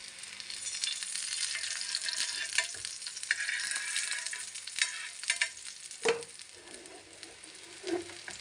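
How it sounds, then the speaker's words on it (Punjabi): A gobi (cauliflower) chilla cooks in a pan over low gas, giving a steady close sizzle and frying hiss throughout, with a few soft scraping or clinking touches near the end. "ਇਹਨੂੰ ਆਪਾਂ ਪੱਕਣ ਦਿੰਨੇ ਆ ਸਲੋ ਗੈਸ ਕਰਕੇ"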